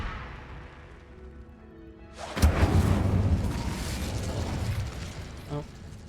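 A fire spell cast in Hogwarts Legacy bursts out suddenly in a loud whooshing blast, then roars and crackles for several seconds with a smaller pop near the end.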